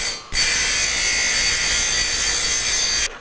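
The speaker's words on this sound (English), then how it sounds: "Now you can see underneath here, I'm grinding the top edge of the weld." Steady abrasive grinding on the top edge of a freshly welded bandsaw blade joint, done on the onboard welder of a Grizzly G0806 metal-cutting bandsaw; a continuous, bright, hissing grind that starts abruptly, holds level for about three seconds, then stops.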